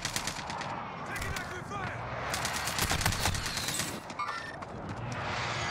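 Rapid automatic gunfire in Call of Duty Warzone on Rebirth Island, with dense overlapping bursts of shots running almost continuously and a brief lull near the end.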